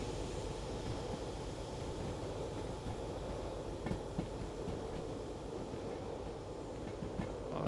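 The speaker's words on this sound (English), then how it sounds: "Oh, now we've got a runaway train." A runaway train rolls along the rails in the game Derail Valley, a steady low rumble with faint clickety-clack of wheels over track joints throughout, no talking.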